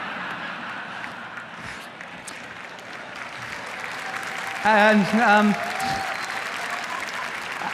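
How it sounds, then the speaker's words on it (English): Scattered audience clapping at a Google I/O tech conference talk on Kotlin, fairly quiet and distant in a large hall, with a louder burst of voice near the middle as the presenter speaks. "I love it when people clap."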